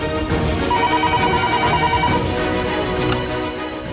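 A telephone rings in a Bengali television serial, a steady repeating electronic ringtone heard loudly and alone over a dense musical backdrop for about four seconds.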